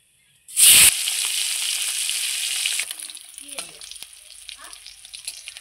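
Puti fish dropped into hot oil bursts into a loud sizzle, then settles into a steady crackling fry that fades slightly, with faint utensil clinks near the end.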